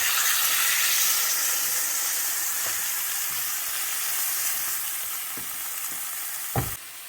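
Corned beef sears in an oiled pan with a steady, bright sizzle that eases slightly over time. A few soft knocks and a sharp clatter near the end come from turning the meat.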